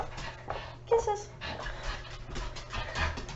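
A pet dog whimpers and pants indoors, with soft breathy panting and a brief whine near the start, under a faint room background.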